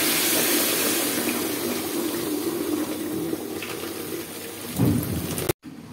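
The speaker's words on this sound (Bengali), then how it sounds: "এবার গরম জল দেব।" Hot water poured into spice paste frying in a pan for a Bengali mustard rohu curry gives a steady, loud sizzling hiss throughout, with no talk.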